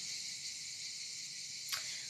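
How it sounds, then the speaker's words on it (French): Cicadas chirp in a steady, shrill continuous drone that fills the background without pause, with a brief sharp click near the end and no talking. "Laissez-les vivre, ces cigales, c'est incroyable ça."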